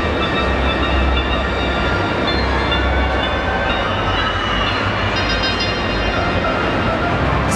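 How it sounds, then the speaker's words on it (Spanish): Small train circling the Houston Astros ballpark after a home run, heard as a steady, loud rumble of rolling wheels with a broad crowd-like wash and faint high tonal lines throughout. "ahí está el trenecito que da la vuelta cada que alguien anota un cuadrangular"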